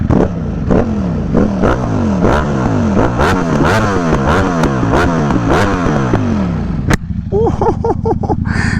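A Ducati Streetfighter V4 motorcycle engine revs hard in repeated rising and falling bursts with sharp backfire pops, then settles to a lumpy idle near the end.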